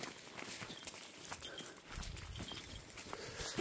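Hooves of a small pony clip-clop and scuff along a woodland track at dusk, steady and fairly close, mixed with rustling and background noise.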